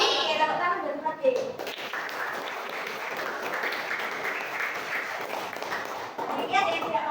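Children in a classroom clap their hands together in a sustained, even burst of applause lasting several seconds, with a few taps and thumps mixed in and brief chatter before and after.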